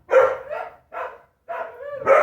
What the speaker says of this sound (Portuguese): O nome do meu cachorro que tá lá em cima na sacada lá latindo